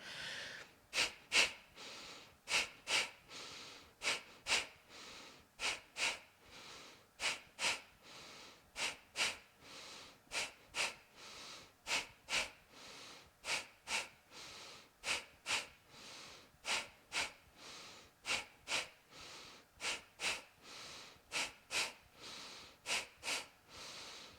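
Rhythmic forceful breaths during a belly-tightening exercise, sharp nasal exhales and quick inhales repeating in close succession, near and clear, with no talking over them.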